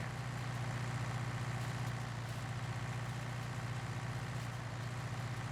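Tractor engine in Farming Simulator 19 straining as it pulls a wide hay tedder, a steady, loud low drone with a continuous rumble and no voices.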